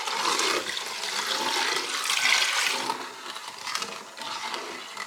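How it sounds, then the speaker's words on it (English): Vinegar poured into a hot pan of flour and spices gives a loud, broad hissing sizzle that rushes for a few seconds, then eases into a lighter, uneven crackle. "I put the rest of the vinegar in."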